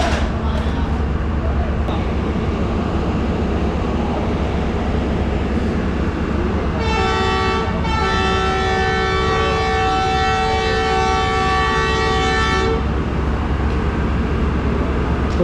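A train's horn blares for several seconds over a loud, constant rumble as the Allama Iqbal Express pulls out of Kotri Junction station, with continuous background noise throughout.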